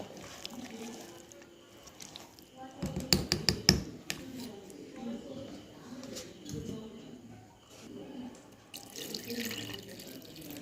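Water is poured, running and splashing steadily, with a short burst of clattering dishes in the middle and faint background chatter.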